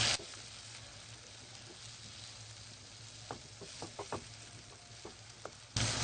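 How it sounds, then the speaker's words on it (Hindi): Eggplant bharta sizzling in a pan as fresh coriander is stirred in, a steady soft frying hiss with a few light spoon taps and scrapes against the pan toward the end. "अब हम ऊपर हरा धनिया डालेंगे, मिक्स करेंगे।"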